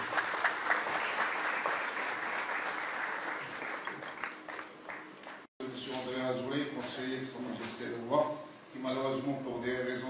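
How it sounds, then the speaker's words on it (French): Audience applause for the governor of Essaouira at a public gathering, sustained dense clapping for about five seconds before a brief break, then continuing under music and voices. "sous vos applaudissements, mesdames et messieurs."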